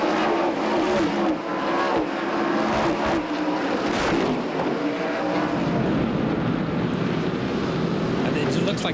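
NASCAR Busch Grand National stock cars race at Bristol Motor Speedway in 1996, a loud, continuous engine roar with crowd and commentary mixed in and talk running over it throughout.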